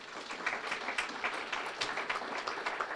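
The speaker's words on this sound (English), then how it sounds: "Again, a round of applause for that group." Applause from a banquet crowd at a chamber of commerce awards dinner, a continuous moderate patter of many hands clapping, somewhat distant, with no one speaking over it.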